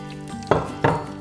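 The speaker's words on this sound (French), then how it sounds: "Je mélange." A spoon scrapes and clinks twice against a pot of pasta and potatoes, two short distinct stirring knocks over a steady background hum.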